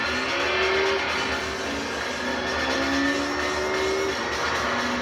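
Race cars roar around a track in Gran Turismo 3, engines droning loudly and continuously, with rising whines from shifting revs and other cars sounding nearby throughout.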